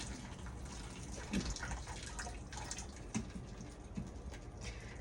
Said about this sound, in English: I'm draining the water off.